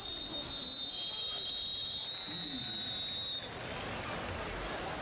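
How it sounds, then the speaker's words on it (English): Shrill referee whistles cut through steady stadium crowd noise at a 2007 Alabama versus Vanderbilt college football game, with a sustained high blast for about three seconds before the roar of the crowd carries on alone. "The whistles are working."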